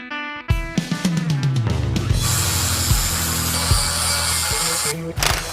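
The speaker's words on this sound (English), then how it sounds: "key is a sharp tip on a air hammer. And you can still do it. Cut the head off, punch the rivet out" A sharp-tipped air hammer rattles hard against a truck's rivet, cutting off the head and punching it out: loud, close, rapid pneumatic hammering with a few short bursts and metallic knocks, running almost continuously.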